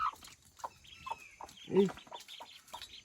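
A mother hen near the camera gives a string of short, soft clucks, spaced irregularly with a louder cluck in the middle, while a person speaks nearby.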